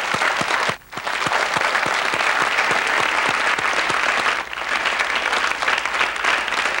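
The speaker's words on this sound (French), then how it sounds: "Je crois qu'on peut applaudir Dalida." Loud studio audience applause for Dalida on a 1988 French television show, with dense continuous clapping and two brief dips.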